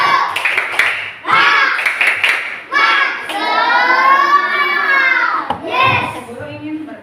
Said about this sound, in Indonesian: Lebih semangat lagi, tepuk semangat.